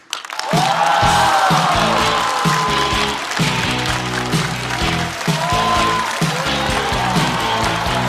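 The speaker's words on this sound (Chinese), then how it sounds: "让我们掌声欢迎季节性的脱口秀演员秋月" Stand-up comedy show audience applauding to welcome a comedian onto the stage, a loud, steady wash of clapping from a large crowd that swells in quickly and holds for several seconds, with tonal music playing underneath.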